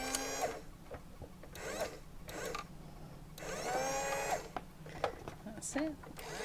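A red Dickie Toys air rescue helicopter toy plays button-activated electronic sounds: several short bursts of bright, warbling tones separated by brief pauses, fairly quiet.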